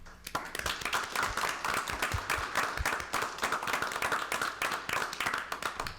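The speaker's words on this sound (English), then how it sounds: "give Simi a round of applause" A committee meeting audience applauds for Simi, a dense, steady round of hand clapping that carries at even loudness for several seconds.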